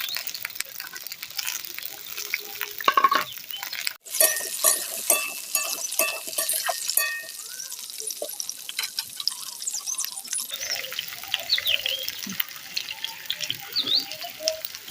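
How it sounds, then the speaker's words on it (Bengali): Potato, eggplant and drumstick pieces fry in oil in a pan with a continuous close crackling sizzle, broken by a sharp clatter partway through, then settling into softer frying. "আলুগুলো হালকা ভাজার পরে এখন আমি দিয়ে দিচ্ছি বেগুনগুলো"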